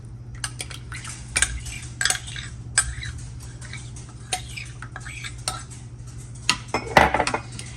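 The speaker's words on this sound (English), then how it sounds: "now I'm going to go ahead and add this to my rice" Cream of chicken soup being stirred into rice in a pot, with soft scraping and clinks of a utensil against metal in an irregular rhythm, quiet and close, under a low steady hum.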